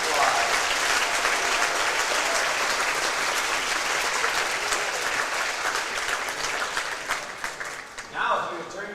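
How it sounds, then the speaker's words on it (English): A big round of applause for departing basketball seniors at a school gym event, a crowd clapping steadily and loudly for several seconds before tapering off as a voice comes in at the end. "Let's give both of these seniors a big round of applause."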